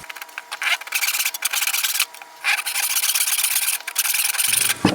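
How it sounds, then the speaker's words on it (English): A wooden board being sanded and rasped, close rhythmic scraping strokes in bursts with short pauses between them. "We're going to sand that up and rasp it out a little bit to clean it up."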